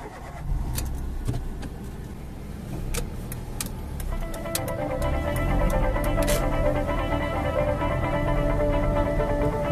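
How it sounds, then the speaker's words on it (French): A car engine cranks and starts at a motorway rest area, with a few sharp clicks and door or interior knocks before the motor settles into a steady, close idle hum. "Je vais monter dans ma bagnole,"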